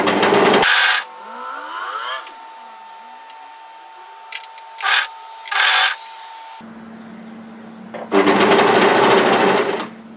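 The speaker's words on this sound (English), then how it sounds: "Now you only need to overlock these together as far as your previous overlocking ends." A sewing machine overlocks the curved seams of a woven-fabric cape in short, loud whirring bursts separated by quiet pauses, with a longer final run near the end.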